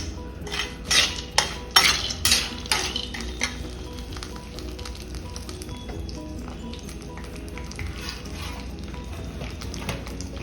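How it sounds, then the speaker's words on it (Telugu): Peanuts, green chillies and curry leaves fry in hot oil with a continuous crackling sizzle, while a metal spoon clanks and scrapes loudly against the pan in the first few seconds before settling into softer stirring. "ఇవి బాగా ఎర్రగా వేపుకున్నామండి."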